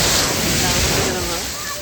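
Strong sea waves break at a Subic Bay beach, a loud, close, continuous roar of surf that fades slightly toward the end.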